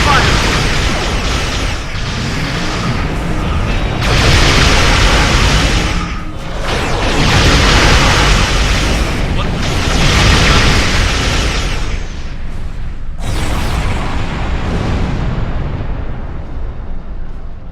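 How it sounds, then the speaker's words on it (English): Star Trek Online ship weapons firing in a sustained barrage of loud, rumbling bursts and booming blasts, repeating in waves over several seconds with brief dips between volleys. "Computer, arm all weapons and fire!"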